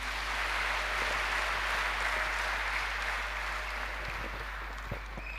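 A congregation claps for a bishop at a church gathering: full, continuous applause from a large crowd, steady for several seconds before thinning a little near the end.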